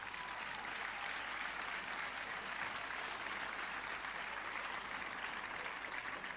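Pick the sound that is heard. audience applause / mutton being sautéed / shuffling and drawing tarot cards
audience applause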